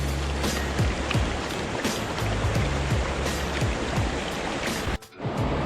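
Trapanier Creek in Peachland, British Columbia, flowing steadily over rocks, a close, loud and continuous rushing babble with a brief thump near the end and no speech.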